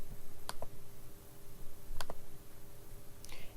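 Two crisp, quiet computer mouse clicks, each a quick double snap, come about a second and a half apart over steady background hiss, with a faint rustle near the end.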